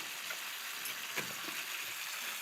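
Chicken caramelizing in a pan gives a steady, quiet sizzle of frying, broken by a few soft pops and a faint stir, with no one speaking.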